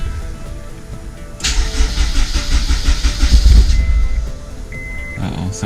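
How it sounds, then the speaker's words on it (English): A Honda S2000 engine cranks with a rapid whirring starter, then catches and fires into a rough running note that fades back down, close and fairly loud with no speech over it. "we're going to give it a crank, and hopefully it starts up and idles"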